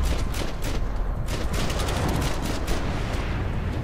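Dense, continuous gunfire from the video game Max Payne 3 fills the moment with loud, rapid overlapping shots and booms and no pauses.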